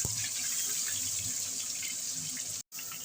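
Marinated chicken pieces coated in salt, turmeric and mustard oil go into hot mustard oil spiced with dried chilli, cumin, cardamom, cinnamon and cloves, giving a steady, close, loud sizzle with one brief dropout near the end.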